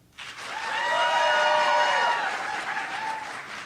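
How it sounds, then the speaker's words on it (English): Comedy convention audience applauding and cheering to vote for a contest winner, a steady wash of clapping with whoops rising quickly, holding loud for a few seconds, then thinning slightly. "Please applaud for who you think is the winner."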